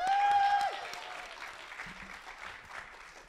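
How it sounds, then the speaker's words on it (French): An audience at a youth engagement conference applauds an expert consultant, the clapping loudest at the start and then gradually thinning and fading while a faint voice is heard underneath. "un tonnerre d'applaudissements pour notre expert"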